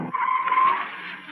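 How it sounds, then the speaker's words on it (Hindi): A car skids to a stop on a road with a loud, sustained tire squeal that holds steady for about a second before easing off, with no talk over it. "गोपाल मियां गाड़ी रोको।"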